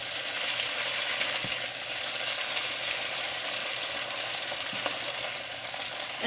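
Frozen squid frying in a hot pan, giving a continuous loud sizzle and crackle with a few small pops, close up and with no talking.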